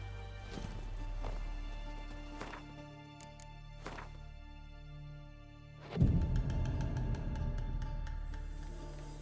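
Horse hooves in The Witcher 3 video game: a few soft clopping steps over steady game ambience and music, then a louder thud and a quicker run of hoofbeats.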